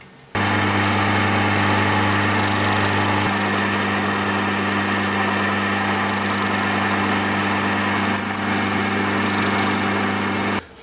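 A lathe drilling a metal part drones with a steady mechanical hum without a break at a constant pitch, loud and close, with a slight shift partway through and no voices.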